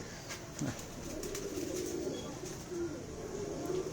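A favourite racing pigeon in a fancier's loft coos in low, rolling phrases that repeat through the moment, fairly close, with faint background bustle and a brief voice near the start.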